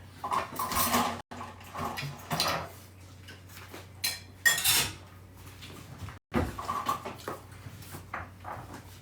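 Dishes, pots and pans being washed nearby: irregular clatters and clinks of cutlery and cookware with splashing water, in bursts over a steady low hum.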